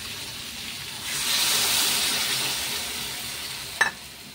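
Water poured into a pan of hot mixed vegetable curry sets off a broad steady sizzle and hiss that swells and then slowly fades, ending with a brief sharp clink near the close.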